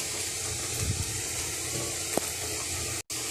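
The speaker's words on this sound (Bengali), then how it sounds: "এইখানে আলু সেদ্ধ বসিয়েছি।" Potatoes boil in a small pressure cooker in a village kitchen, giving a steady hiss of steam with faint mechanical rattles and one brief sharp tick, all fairly quiet throughout.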